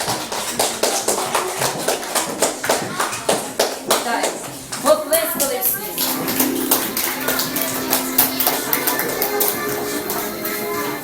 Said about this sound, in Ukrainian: Оплеска.